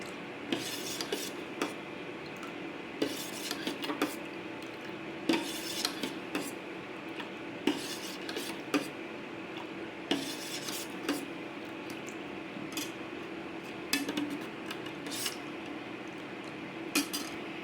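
A metal spoon scrapes and clinks against a pot as rice starch water is stirred on an induction cooktop, with repeated rhythmic scraping strokes, close and fairly soft, without speech.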